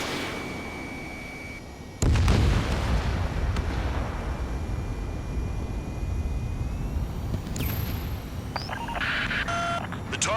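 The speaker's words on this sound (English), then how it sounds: "Enemy interceptors firing" Enemy interceptors firing in the combat flight game Ace Combat 7 bring a sudden heavy blast over constant jet roar, followed by a rushing hiss, sharp electronic warning tones and a cluster of bright beeps.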